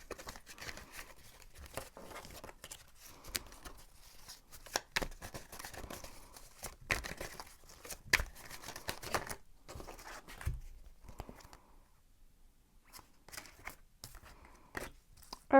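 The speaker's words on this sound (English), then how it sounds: "I'm going to shuffle the cards now" Playing cards being shuffled by hand during a tarot reading, a soft, scattered run of papery riffles, flicks and crinkles that comes and goes in quiet bursts, close by with no talking.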